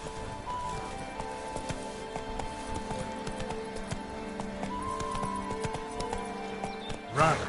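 Roach, the horse in The Witcher 3, gallops with steady, rhythmic clip-clop hoofbeats that run through the whole stretch, close and clear. Game music plays underneath, and a brief whinny or voice cue rises near the end.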